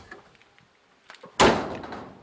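A Citroen GS door with a broken catch gives a few faint clicks and rattles, then one loud, close slam that rings out and fades.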